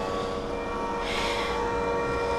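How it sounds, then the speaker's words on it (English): A light rail train passes at a steady, continuous rumble with a bright swell of rail noise midway, heard at moderate distance without voices. "I could have taken that light rail train right there to here."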